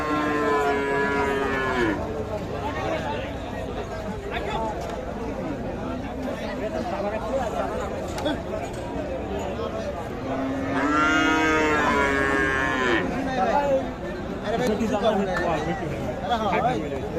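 Cattle low loudly at a busy cattle market selling Friesian and crossbred bulls, with two long drawn-out moos from nearby animals rising over a constant murmur of crowd chatter and voices.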